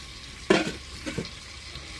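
Small fish frying in a pan with potato and tomato, a quiet sizzle with a couple of louder stirring bursts near the start and middle, close up with no talk.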